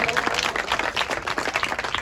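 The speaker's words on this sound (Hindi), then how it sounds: "जोरदार तालियां बच्चों।" Children applauding at a school event honoring a retiring teacher, a dense ongoing patter of many hands clapping at once, fairly close and steady throughout with no talk over it.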